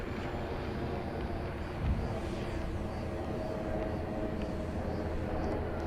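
E-flite Twin Otter 1.2 m RC model airplane flying over a paved runway, a steady electric motor drone heard at a distance, mixed with outdoor wind noise and a brief thump near two seconds.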